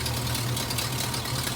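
A hearse engine idles steadily while warming up, a constant low, even rumble that stays loud and close, with no other sounds.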